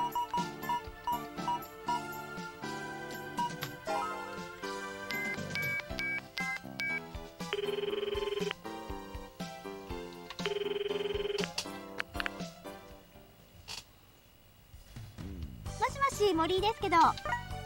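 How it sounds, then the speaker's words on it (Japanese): A telephone rings during a call scene in the video game Sentimental Graffiti, with repeated electronic ring bursts among game music and jingles before a short pause and further melodic tones. "とりあえず大阪に電話してみましょう。"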